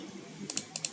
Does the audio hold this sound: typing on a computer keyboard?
yes